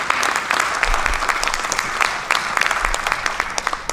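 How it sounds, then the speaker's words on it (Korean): A church audience at a presentation on the Lausanne movement applauds to welcome a pastor to the stage. The clapping is loud, dense and continuous, close by, with no talking. "우리 박수로 맞이해 주시기 바랍니다."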